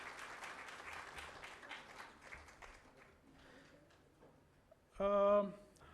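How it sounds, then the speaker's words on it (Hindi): Audience applause welcoming a guest to the stage at an Indian Rett Syndrome Foundation event: soft, scattered clapping that thins out, with a loud tonal burst near the end. "चाहूँगा तालियों से मैम का स्वागत किया जाए।"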